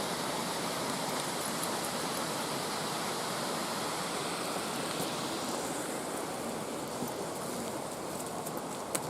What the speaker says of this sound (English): A nice waterfall there.